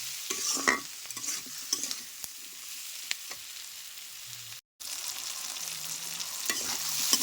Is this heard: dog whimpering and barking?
no